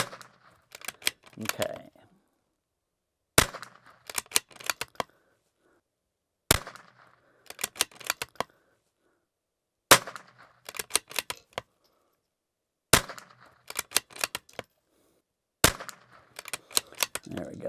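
A rifle with a thumbhole stock fires at targets at 100 yards, giving six sharp, loud cracks spaced a few seconds apart, with a brief voice and quiet handling noises between shots.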